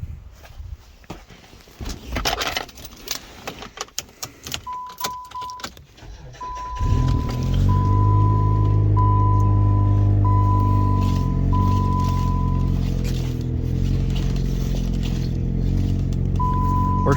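A car with a freshly repaired power steering hose is cranked and starts: keys jingle and handling noises come first, then the engine catches and settles into a loud, steady idle that runs to the end.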